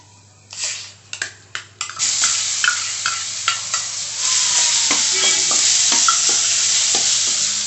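Raisins and grated beetroot hitting hot oil in a pan for beetroot halwa, sharp crackling bursts as they drop in, then a loud, steady sizzle with repeated spoon scrapes, close up and no talking.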